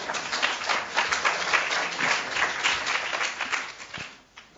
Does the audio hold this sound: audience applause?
yes